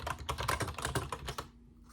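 Quick, continuous keystrokes on a computer keyboard while writing in a document app, close and fairly loud, trailing off into quiet at the end.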